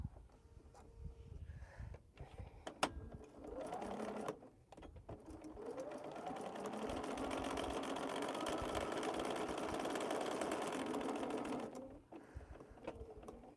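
A sewing machine stitches a quilt seam through heavy layers, starting with short hesitant bursts and then running in one long steady whirring stretch before stopping, quiet and close.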